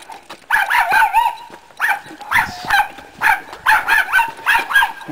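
A dog barks repeatedly at close range, loud yips and bow-wows in uneven bursts with brief whimpering tones between them.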